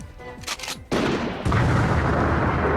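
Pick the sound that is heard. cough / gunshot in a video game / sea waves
gunshot in a video game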